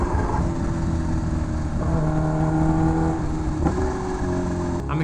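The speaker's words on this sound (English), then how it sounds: "Oh my god, this bike sounds so good." A carbon fiber Kawasaki Ninja H2R engine drones loud and close from on the bike, a steady throaty hum whose pitch rises and shifts slightly, with no talking.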